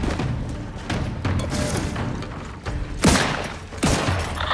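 Gunfire and booming impacts during a firefight in the video game Outer Worlds 2, a dense steady barrage with heavier thumps and sharp blasts near the end, loud and continuous with no talk.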